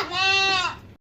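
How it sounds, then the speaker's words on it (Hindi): An 8-month-old male goat, a Kamori-Punjab cross at a livestock market, gives a single loud, close bleat lasting about a second. "ये मेरे पास बकरा है 8 महीने का"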